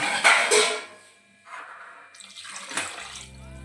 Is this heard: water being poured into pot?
yes